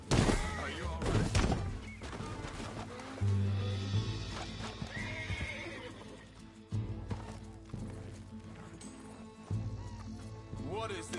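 A horse whinnies loudly in the video game Red Dead Redemption 2, then hooves clip-clop amid thuds and scuffles, with people talking intermittently over the commotion.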